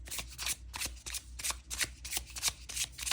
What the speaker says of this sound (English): And then I'm going to shuffle them again.